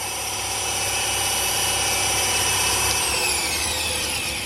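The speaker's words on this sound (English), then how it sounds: "let's try and take a full depth cut" Milling machine with an ER32 collet-held cutter starting a full depth cut, a steady close whine with high tonal harmonics throughout, pitch shifting slightly near the end, no talk.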